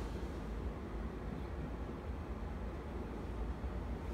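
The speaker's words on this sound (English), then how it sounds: "I'm gonna go outside one more time so you guys can hear that. Blower's running right now." An American Standard variable-speed heat pump blower runs outdoors, a steady, faint, even whooshing rumble that holds without change and has no talking over it.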